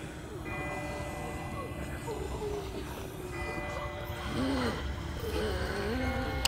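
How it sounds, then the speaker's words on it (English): Distant bells ringing in The Walking Dead adventure game, faint repeated tones sitting under a low rumbling background with scattered brief vocal sounds. "someone must be ringing those bells"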